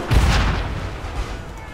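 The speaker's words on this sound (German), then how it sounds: "Kanone abfeuern." A cannon fires in the Assassin's Creed 3 video game during the Battle of Monmouth, giving one loud, broad boom that rolls off into a sustained rumbling decay.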